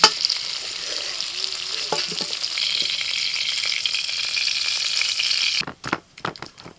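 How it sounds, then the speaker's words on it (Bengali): Tomatoes fry in a pan with a steady bright sizzle and a few utensil clicks, close and loud, before the sizzle cuts away into brief scraping knocks near the end. "এদিকেও ভাজতে ভাজতে টমেটোটা হয়ে গেছে"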